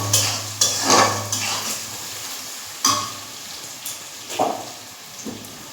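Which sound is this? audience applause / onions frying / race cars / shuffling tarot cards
onions frying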